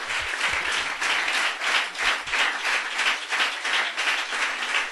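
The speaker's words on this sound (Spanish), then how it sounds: "¿Cuánto le da un aplauso al Señor?" A church congregation applauds in a Spanish-language service, many hands clapping together in a steady, lively rhythm that swells in waves, with some low thumps underneath.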